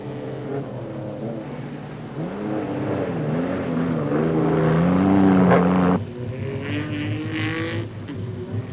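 A bright red rally car racing in the 1999 Dakar rally: a loud engine whine rising and falling through gear changes as it passes close, then a rougher, fainter drone after a sudden cut.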